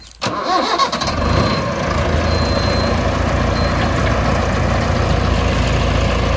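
A heavy tractor engine cranks and catches, then settles into a loud, steady idle close by.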